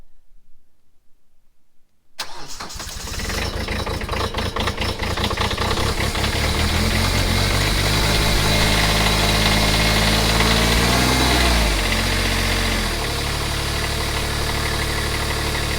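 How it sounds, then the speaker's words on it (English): Kubota B2601 compact tractor diesel engine in icy, snowy conditions, cranking to life after silence and then settling into a loud, steady clattering idle with a slight pitch shift near the end. "we're gonna get it started. And let it warm up"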